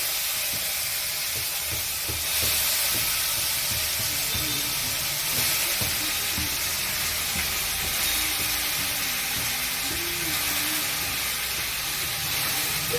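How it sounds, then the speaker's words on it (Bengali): Chopped vegetables fry in hot oil with panch phoron five-spice, giving a loud, steady sizzle and hiss, with occasional stirring scrapes, close and continuous. "আমি এখন আর এর মধ্যে তেল দিয়ে দিয়েছি পাঁচফোড়ন দিয়ে দিয়েছি আর এই এখন হচ্ছে আমি ছেড়ে দেবো"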